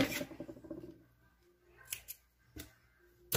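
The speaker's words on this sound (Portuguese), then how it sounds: "Deixa eu já cortar esse fio, pra não atrapalhar. Cadê minha tesoura?" Scissors cut crochet yarn with a few quick, faint snips and small clicks in a quiet room.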